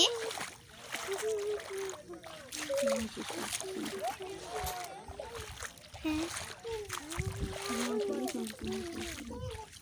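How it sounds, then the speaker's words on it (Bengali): Water splashes and sloshes intermittently as a buffalo is bathed with pond water, while voices, including a child, chatter nearby outdoors. "পুকুরের পানি দিয়ে গোসল করানো হচ্ছে"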